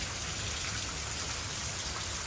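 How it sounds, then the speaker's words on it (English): Steady rain falls outdoors on a rainy Sunday, a dense, even hiss of drops hitting surfaces close by, constant and unbroken with no voices. "So it's raining."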